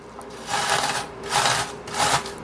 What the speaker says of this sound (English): I'm going to grate my onion. Now, you are to coarsely grate an onion.